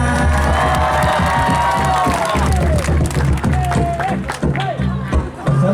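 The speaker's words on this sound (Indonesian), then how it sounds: "Supaya lebih meriah tepuk tangan sama-sama" Festive crowd at a Banjar madihin performance during a Palangkaraya people's festival, cheering, whooping and clapping loudly and continuously, with children's shouts and scattered voices in the mix.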